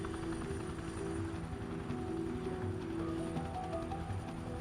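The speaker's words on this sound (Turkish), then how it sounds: "Abi helikopter." A steady mechanical drone with a rhythmic chopping thrum, like a helicopter passing overhead, loud and continuous with no voices.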